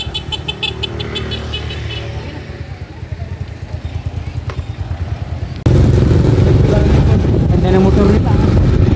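Three motorcycle engines rumble close by in Majayjay, Laguna, growing louder and rougher partway through as one revs up, with voices chattering over the noise.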